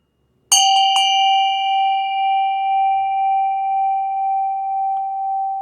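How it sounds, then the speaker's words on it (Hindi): A Tibetan bell is struck once with a bright metallic ding, a quick second tap following, then a long, pure ringing tone that slowly wavers and fades in a quiet room. "ये तिब्बतियन घंटी है।"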